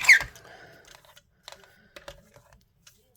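Paper trimmer cutting card for stamped layered cardmaking, a sharp rustle at the start followed by scattered light clicks and snips, close and fairly quiet, with no speech.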